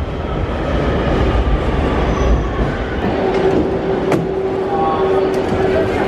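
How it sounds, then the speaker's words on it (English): Rumbling Spanish metro train ride with steady wheel noise, faint rattles and occasional metallic squeals and clicks, heard from inside the car. "This is gonna be our last subway ride."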